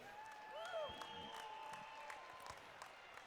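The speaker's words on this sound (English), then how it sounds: "Put a big round of applause together for Mr. Soderberg." BMX race fans in the stands at a national event applaud and cheer in a diffuse crowd wash, while tonal whistles or horn-like notes sweep across it and brief sharp claps punctuate the steady background.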